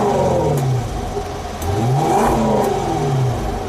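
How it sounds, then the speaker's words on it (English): A 550 hp supercharged Range Rover Velar SV Autobiography, a 2020 model, revs with a loud, steady engine roar that rises and falls in a few throttle blips, close by with no talk. "So now we're gonna do the start of this SV Autobiography Velar to show you what that 550 horsepower sounds like."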